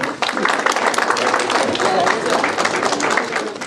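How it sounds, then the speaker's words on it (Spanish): A convention audience applauds a speaker being welcomed to the stage, producing a dense, continuous wash of many hands clapping, loud and steady throughout with a faint crowd murmur beneath. "Recibamos con un caluroso aplauso a la doctora Yaneiri Boyer Carrera."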